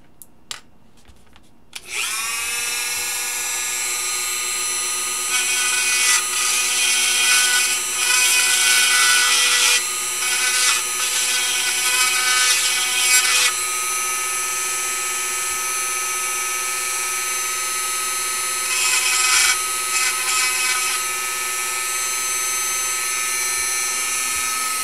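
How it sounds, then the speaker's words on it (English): A Dremel rotary tool grinds steadily near the mic while reverse-engineering a small electronic gadget, a high whine starting after a brief pause and running continuously, swelling louder in several bursts with no talk. "Just a little more Dremel on this."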